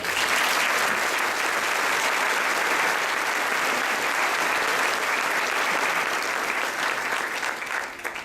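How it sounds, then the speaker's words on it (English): Steady, loud audience applause for students at a school inspiring-student event, sustained dense clapping lasting about eight seconds with no one speaking over it, tapering slightly at the end. "Let's give them a round of applause."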